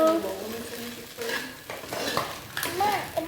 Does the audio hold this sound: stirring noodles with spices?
yes